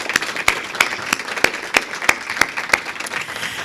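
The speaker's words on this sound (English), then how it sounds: "would you please take a moment and help me applaud your family members and your" An audience at a community college graduation claps for the graduates' families and friends, with steady applause and a few sharper, louder claps standing out on top.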